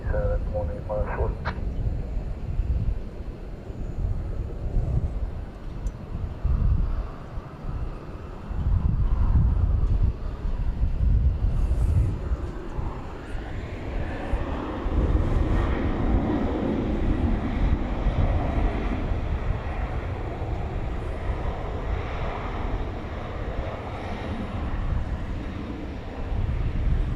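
An American Airlines jet taking off at night at DFW Airport, a heavy broad engine roar building and holding from a distance, with a radio voice heard early on.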